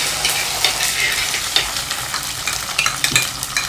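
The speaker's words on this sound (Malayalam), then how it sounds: "കടുക് പൊട്ടി തുടങ്ങുമ്പോൾ കറിവേപ്പില വെളുത്തുള്ളി ഇഞ്ചി പച്ചമുളക് ഒരു ഉള്ളി 1-2 ഉള്ളി 1-2 3-4 ഉള്ളി മൊത്തത്തോടെ ഒക്കെ ഇടുന്നുണ്ട്." Curry leaves, garlic, ginger, green chilli and whole onions hit hot oil with popping mustard seeds, giving a loud, steady crackling sizzle with sharp spits and pops and occasional stirring scrapes throughout, no voices.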